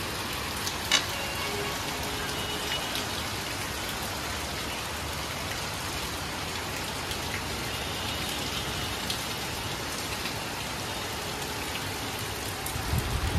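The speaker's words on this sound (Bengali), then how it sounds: "বাইরে হচ্ছে প্রচণ্ড পরিমাণে বৃষ্টি, দেখতে পাচ্ছ প্রচণ্ড পরিমাণে বৃষ্টি হচ্ছে" Heavy rain pours outside in an unbroken, dense hiss that holds at the same loudness throughout, with no voices or other sounds rising above it.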